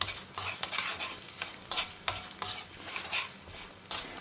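Dal and chillies roasting in a pan with a low sizzle, as a spoon scrapes and stirs in quick, irregular strokes that sound as sharp, bright bursts up close.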